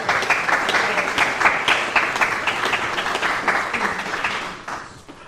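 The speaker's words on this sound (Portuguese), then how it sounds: "Un aplauso." An academic conference audience applauds a professor being welcomed, a steady round of close clapping that stays even before tapering off at the end.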